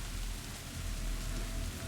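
Heavy rain pours down in a steady, dense hiss with no breaks, moderately quiet and with no other sounds or voices.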